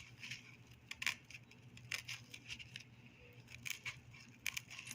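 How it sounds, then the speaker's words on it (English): Small, crisp snipping sounds of a small pair of scissors trimming excess, a few scattered cuts with pauses between, quiet and close over a low steady hum. "you can still take a very small pair of scissors and just very carefully cut the excess off"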